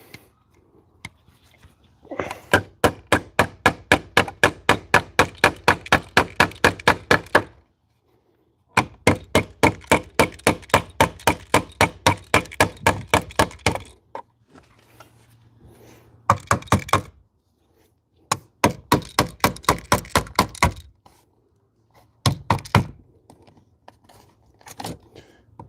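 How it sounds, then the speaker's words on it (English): Nail being hammered into a wooden stud: long runs of rapid, sharp, loud blows in steady rhythm, broken by brief pauses and a few shorter bursts, with no talk. "But I can see where we're going to have to hammer this in."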